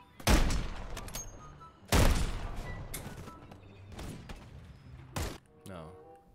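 Heavy gunshots fired through a fence in Call of Duty MW3, several loud sharp reports spaced a second or so apart with echoing tails, a final sharper crack near the end, mixed with game sounds.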